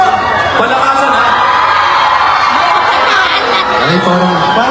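Concert crowd at a fan event in Toronto cheering and screaming continuously, loud and dense throughout, with whoops and shrieks rising over a steady roar.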